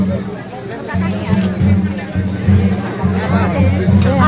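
Dense crowd chatter fills a busy wedding party, a steady murmur of many voices mixed with people talking close by.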